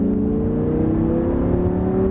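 An Audi R8 accelerating hard on the Abbeville circuit, its engine note a loud, close, continuous drone rising steadily in pitch.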